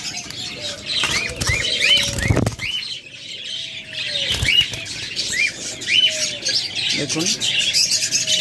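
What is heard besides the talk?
pair of rainbow budgerigars chirping and flapping in cage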